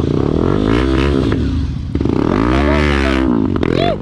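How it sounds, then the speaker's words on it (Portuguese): A trail motorcycle at a riders' meetup in Palmeira, Paraná, started without a key, its engine running loud and close with rising and falling revs throughout. "Isso que a moto boa, pega sem chave, né?"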